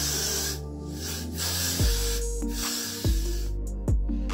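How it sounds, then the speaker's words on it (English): Hair spray hisses from a can onto hair for a ponytail in short, close bursts early on, followed by a few sharper handling knocks and swishes. "Shake it up first and then spray."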